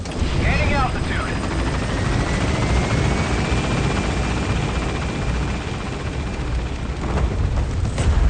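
In the Metal Gear Solid V video game, a helicopter lifts off with a loud, steady rotor thump and engine roar that continues throughout, while a radio voice speaks over it.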